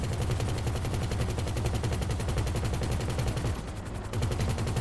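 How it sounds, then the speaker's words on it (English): Machine gun on a Weaponized Conada helicopter in GTA 5 Online, a steady, rapid, loud stream of shots with a brief pause near the end before firing resumes. "Let's see what this machine gun's like."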